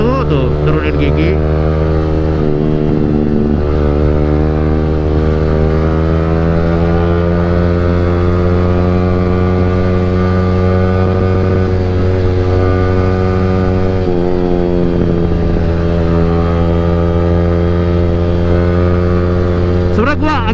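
A Yamaha R15 V3 motorcycle with a Tridente F22 aftermarket exhaust runs steadily for about twenty seconds, a loud, close, strongly tonal engine drone with brief dips in pitch as it shifts or decelerates.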